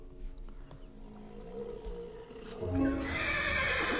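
Horse in the Minecraft video game giving a loud whinnying neigh near the end, with game noises and talk underneath.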